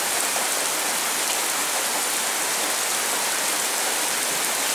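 Heavy summer rain pours down in a steady, dense hiss in Vazzano, close and loud throughout with no breaks.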